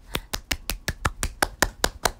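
Hand clapping in a room: about a dozen sharp, evenly spaced claps in a quick steady rhythm, close and clear with no talk.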